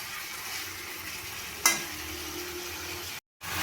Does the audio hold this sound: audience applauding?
no